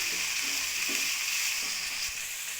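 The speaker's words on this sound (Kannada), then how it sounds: "ಬಟಾಣಿನೂ ಚೆನ್ನಾಗಿ ಫ್ರೈ ಮಾಡ್ಕೊತಾ ಇದ್ದೀನಿ." Peas and onions frying in a pan for capsicum chitranna, a steady close sizzle with faint stirring scrapes underneath and no talk.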